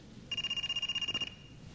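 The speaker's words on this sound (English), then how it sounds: "What phone is that? Is it your phone?" A cell phone rings once, a bright electronic trill of rapid pulses lasting about a second, fairly close and clear over quiet room tone.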